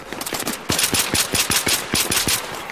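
Automatic weapons fire rattles in the video game Battlefield 3. Loud, rapid bursts of shots run in an uneven rhythm, close and dominant throughout.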